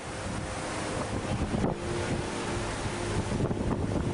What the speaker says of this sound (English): Fleeing tsunami-like waves crashing into their properties.